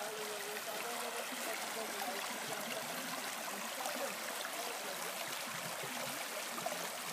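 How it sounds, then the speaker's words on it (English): A rainforest creek runs in Guyana, a steady broadband rush and trickle of flowing water that holds evenly throughout. "This is what we call a creek. Running from the rainforest."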